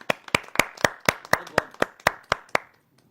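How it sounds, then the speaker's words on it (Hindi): Clapping at a Hindi poetry gathering (kavi sammelan): about eleven sharp, evenly spaced claps in a steady rhythm, close and clear with no talk, ending abruptly into near silence. "उन असली हीरोज के लिए एक बार जोरदार तालियां बज जाएं"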